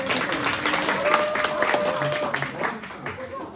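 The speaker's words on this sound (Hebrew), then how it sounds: "קבלו גם מחיאות כפיים." An audience breaking into applause, dense clapping from many hands at moderate distance, with voices talking over it throughout.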